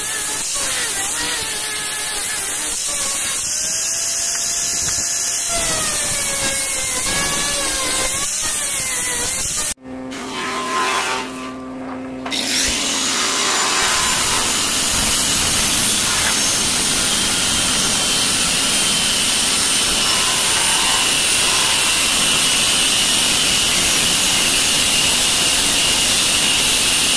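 Loud, continuous rasping as wood is rubbed and smoothed while a wooden side plane is being made, with a brief sharp break partway through and then steady abrasive noise to the end.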